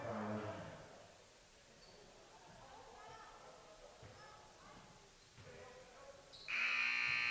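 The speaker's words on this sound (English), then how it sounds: "Hoisting at the buzzer was Brett Pazanka." A loud electronic buzzer sounds at the end of a high school boys basketball game between Sidney and Gering, cutting in sharply over crowd noise and arena chatter and holding steady to the finish.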